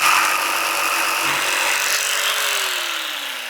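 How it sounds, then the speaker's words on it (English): A loud power drill drilling holes in a wall whines steadily up close, its pitch drifting lower toward the end as it winds down. "you're just drilling all the same holes?"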